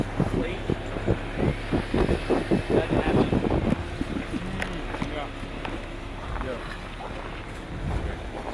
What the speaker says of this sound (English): Here comes that tractor again